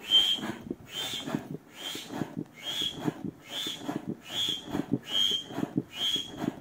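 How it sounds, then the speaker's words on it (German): Air whistles repeatedly while an Alpina Kinglight 290 ultralight inflatable angler's boat is pumped up, a thin high tone rising with each pump stroke over low thumping pump strokes, in a steady close rhythm. "So, wenn es so pfeift, heißt es natürlich, dass die Luft nur schwierig reingeht"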